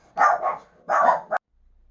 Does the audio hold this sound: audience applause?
no